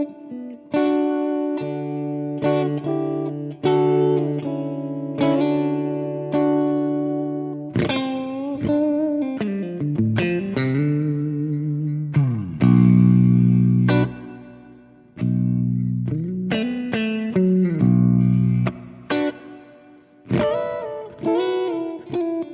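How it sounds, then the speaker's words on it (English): Electric guitar played through a large-size reverb setting on a Laney amp plugin, with chords and single notes ringing out into long, washy tails, loud and close, with no talking. "Let's check out the reverb."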